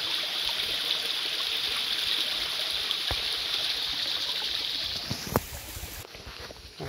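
Water rushes steadily down a jungle waterfall stream beside a narrow, dangerous mountain footpath, a loud, continuous hiss that holds constant before shifting slightly near the end with a brief knock.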